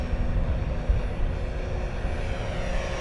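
An FMS Corsair 1700mm radio-controlled warbird fitted with a 360KV electric motor flies overhead, a steady, continuous motor and propeller drone with a faint whine, moderately close and without voices.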